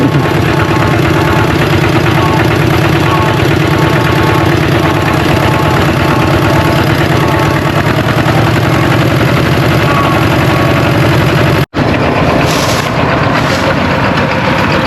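A walking tractor's small diesel engine chugs steadily nearby, loud and rhythmic, with a brief dropout near the end before it keeps running.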